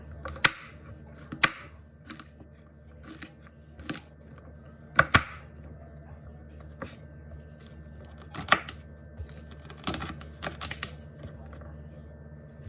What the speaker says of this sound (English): We're going to use a chef's knife to cut it up.